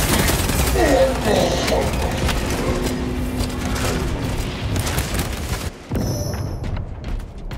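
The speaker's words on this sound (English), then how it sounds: "Throwing shock grenade." A shock grenade goes off in Space Marine 2 PvP combat: a loud, continuous rumble of booms and gunfire with mechanical clatter, cutting out sharply near the end before the battle noise resumes.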